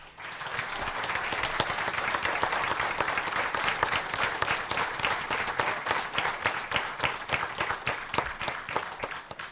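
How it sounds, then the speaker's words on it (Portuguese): An audience at a Christmas nativity play in Fonte Boa, Esposende, gives the theatre performers a long, loud round of applause, dense clapping that thins toward the end into more distinct individual claps. "uma grande salva de palmas para eles."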